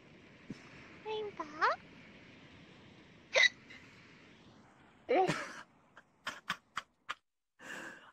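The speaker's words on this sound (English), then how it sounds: "Oh, I think I hiccuped." A person in VRChat hiccups several times, sharp short bursts spaced irregularly between quiet gaps, with brief voiced sounds and speech mixed in among them, close and fairly soft.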